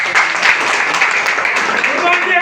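An audience at a business meeting claps loudly and steadily for a speaker, a dense continuous applause with some voices mixed in.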